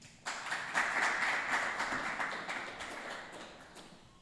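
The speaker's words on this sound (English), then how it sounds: "Give him a round of applause." An audience breaks into applause that starts suddenly, swells briefly, then gradually fades over a few seconds, fairly faint and without speech.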